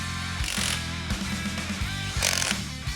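Bolts are fastened with a ratchet while a torque converter is installed in a muscle car build, giving repeated mechanical clicking bursts over a steady low workshop hum.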